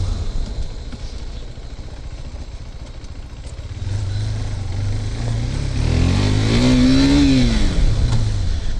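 Motorcycle engine revving while riding through city streets at night, a steady close engine drone that builds louder midway with a rising, then falling rev sweep toward the end.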